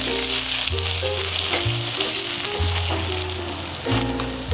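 Green chili and ginger fry in a pan for Kerala pearl-spot fish, a loud close crackling sizzle running steadily under a low recurring hum, with no voices.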